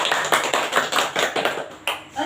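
A short burst of hand clapping in an elementary classroom lesson, about eight crisp rhythmic claps close to the microphone, with a couple more irregular claps at the end.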